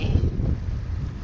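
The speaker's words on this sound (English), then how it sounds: "Now it's windy" Steady wind of about 14 knots buffeting the microphone with a low rumble on the Chesapeake Bay, continuous and fairly loud, with faint water movement beneath.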